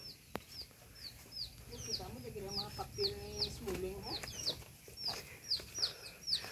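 Chickens cluck and chatter close by in quick repeated bursts, with a low murmur of voices and rustling in the background.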